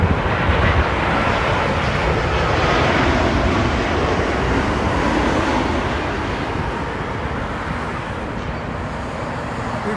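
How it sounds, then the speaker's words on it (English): A Boeing 787 Dreamliner jet airliner landing at Toronto Pearson, heard as a loud, steady broadband engine roar and rushing air that fills the whole stretch and eases slightly toward the end, with no talking. "Oh, it's a Dreamliner."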